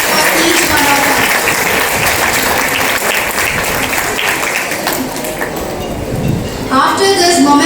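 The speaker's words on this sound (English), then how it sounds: "Let the sound of the claps resonate in our atmosphere." A ceremony audience at a college foundation day celebration claps in steady, loud applause that tapers slightly, and a voice starts speaking near the end.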